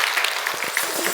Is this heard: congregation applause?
yes